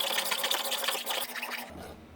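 A hand file works the metal edge of a slot on a Harbor Freight band saw part, a rapid run of raspy scraping strokes close by that briefly stops just before the end.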